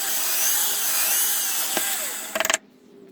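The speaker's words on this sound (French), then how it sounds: "Et je vais percer les deux plaquettes en micarta" Power drill boring through two micarta knife-handle scales, using a drilled spring as a guide: a loud continuous high whine that cuts off into a few sharp bursts and then quiet.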